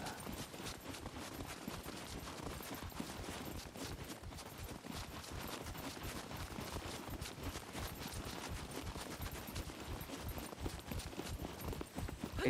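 Hooves of a wounded horse in the survival game SCUM, a continuous dense clatter of clopping steps with some sharp cracks mixed in, steady and fairly close throughout.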